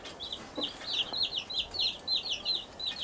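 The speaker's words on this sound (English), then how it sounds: "These are the hens." Auto-sexing Bielefelder hens cluck in a quiet run of repeated short calls, fairly faint and steady, over a soft background hum.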